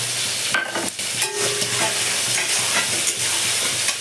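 Soaked spice paste of cumin, turmeric and chilli powder stirred into potatoes and onions frying in oil, a loud close sizzle with steady scraping of a spatula through the pan.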